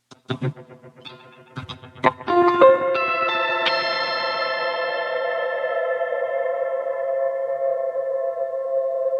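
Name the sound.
guitar through Echo Boy Jr delay plugin, 16th notes, high feedback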